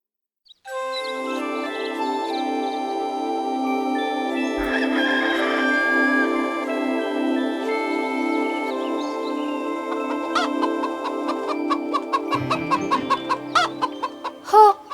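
A cartoon hen clucks and crows over a bright tinkling musical backing, with sustained tonal calls and, near the end, a run of quick rhythmic clucks and chimes.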